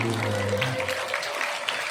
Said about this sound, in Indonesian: Tepuk tangan untuk guru-guru kita di sini.